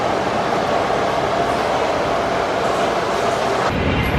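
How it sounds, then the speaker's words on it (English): A New York subway train heading back to Manhattan rumbles along the tracks with a loud, steady mechanical roar and rattling wheel noise that shifts near the end. "now we're headed on the train back to Manhattan"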